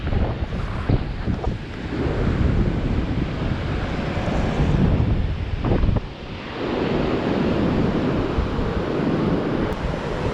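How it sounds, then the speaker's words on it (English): Strong wind roars and buffets across a popular beach north of San Francisco, with surf breaking underneath; a loud, continuous rush that dips briefly and swells again, no voices. "the wind was so high today that I think a lot of people gave up"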